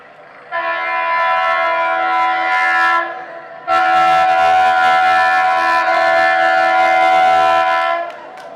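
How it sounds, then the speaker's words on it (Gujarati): A train horn blares loudly in two long sustained blasts with a brief pause between, over the low rumble of a train close by. "અરે મને લાગે છે ટ્રેન આવી ગયો"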